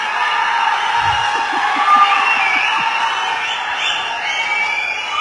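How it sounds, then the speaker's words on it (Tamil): A packed audience at a Kathi film function in Tamil Nadu claps and cheers steadily, with a dense wash of applause and whoops that carries on without a break. "நீங்க கேள்விக்கே கிளாப் பண்றீங்கிறது நான் பாக்குறேன்"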